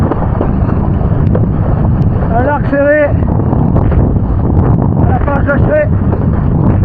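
Strong wind roars against the microphone while kitesurfing on the ocean off the Basque coast between Bidart and Socoa, a loud constant buffeting rumble with someone talking through it.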